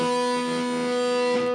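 Electric guitar on the neck pickup, with distortion, reverb and chorus, plays a short sustained phrase from a solo: a steady, loud, rich note held with a slight shift near the end.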